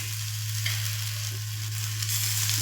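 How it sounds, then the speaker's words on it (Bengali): A flour and potato snack frying in a karahi while it is stirred, with a continuous close sizzle over a steady low hum. "দেখুন ভালো করে নাড়াচাড়া করে নিয়েছি, কড়া থেকে উঠে উঠে চলে আসছে।"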